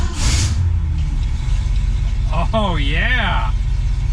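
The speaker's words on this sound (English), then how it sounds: "Wow, that fired right up. Oh man, that sounds great." A 1966 Ford Mustang engine cranks and fires, then settles into a loud, steady idle close by while a man exclaims over it.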